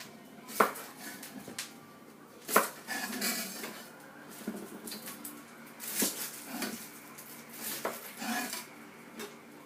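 Knife cutting the ends off shallots on a board, a few sharp knocks of the blade against the surface spaced out amid light clatter of kitchen utensils, no talking.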